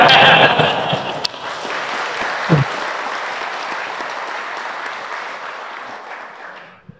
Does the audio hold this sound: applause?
yes